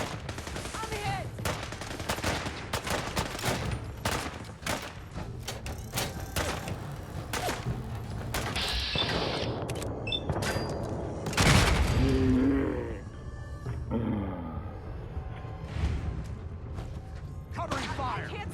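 A Fallout 4 firefight between the Brotherhood of Steel and the Railroad, with dense, continuous gunfire and heavy thuds, a big boom partway through, and shouting voices throughout.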